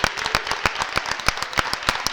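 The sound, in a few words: handball crowd applauding as the captain applauds the public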